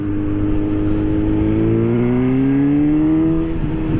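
Suzuki GSX-S 750 motorcycle engine pulling up through third gear at about 30 mph, a loud steady rising drone with climbing harmonics as revs build, close and continuous with no talk over it.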